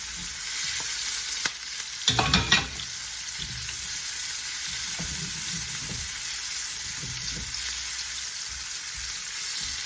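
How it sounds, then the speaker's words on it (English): Steady, loud sizzling and hissing of onions frying in a hot pan, with a brief burst of stirring clatter partway through. "I'm going to add the onions. See that sizzle, hear that sizzle."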